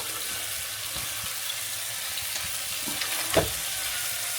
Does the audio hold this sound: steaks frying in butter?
yes